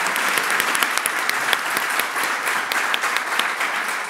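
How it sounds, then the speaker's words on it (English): An audience applauds after a university event, a loud dense burst of many hands clapping with sharp individual claps popping out, sustained throughout. "Big applause also again to Kavita."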